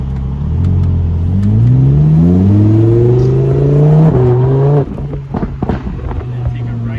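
A Lamborghini accelerates hard from close by, its engine note climbing through several gear changes before it eases off to a lower, steadier drone. Voices can be heard over the engine.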